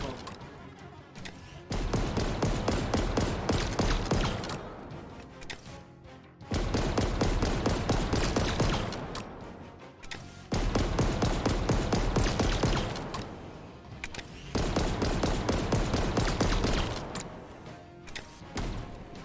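Automatic fire from the Bulldog in Halo Infinite, with the trigger held down, comes as four long, dense bursts of rapid shots separated by short pauses, loud and close.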